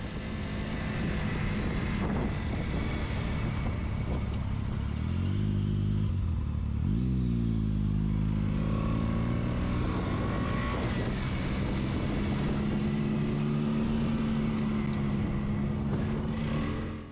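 Several motorcycles riding in staggered formation pass close by, their engines droning loudly and steadily with rising and falling pitch sweeps, a continuous roar throughout with no voices.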